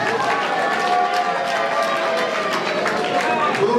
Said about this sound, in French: Nous pouvons applaudir pour la presse.